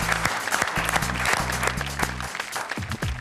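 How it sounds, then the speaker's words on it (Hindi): Studio audience claps in a burst at a Hindi comedy show, the clapping mixed with stage music and a brief voice. "जरा हिंदी में तालियां बजाइए"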